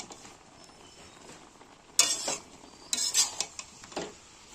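Jujube pickle being stirred and mashed in a pan, with soft clattering scrapes of a utensil against the pan in a few short bursts over a quiet background.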